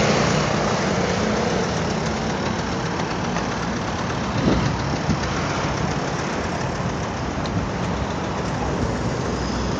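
Dense, continuous traffic noise at a busy Myeongdong intersection, with motorcycles and engines idling and rumbling close by, a steady roar without pauses.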